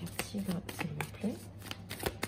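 Fortune-telling cards being shuffled and drawn by hand, with quick, close, papery riffles and flicks, and a voice speaking softly beneath.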